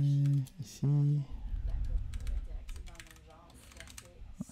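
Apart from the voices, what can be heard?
typing code on a computer keyboard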